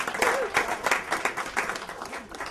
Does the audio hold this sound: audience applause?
yes